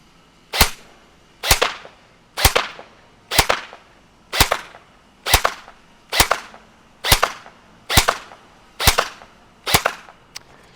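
A Helios Knight's Armament SR-16E airsoft rifle fires eleven single shots at an even, unhurried pace, each a sharp, snappy crack heard close at the muzzle with no talking.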